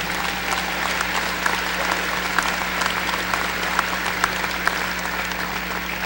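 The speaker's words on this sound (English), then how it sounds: "Let us give these scholars one more round of applause for this significant accomplishment" Sustained audience applause for master's graduates at a spring university commencement, a dense, even roar of many clapping hands in a large hall, holding steady throughout.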